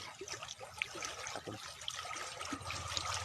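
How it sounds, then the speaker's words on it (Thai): Water running strongly along an irrigation canal beside rice fields in Thailand, a continuous trickling, gurgling flow heard close by with no voices. "น้ำไหลมากครับผมน้ำไหลมากเรื่อยๆครับ"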